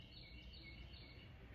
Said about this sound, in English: you can hear the birds singing, tweeting away